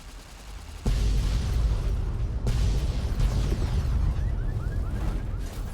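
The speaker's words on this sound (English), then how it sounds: "pretty big explosion there" A huge in-game explosion in Fallout: New Vegas bursts in abruptly and then sustains a loud, rumbling roar with a second blast hit, thick low-end rumble filling the whole scene.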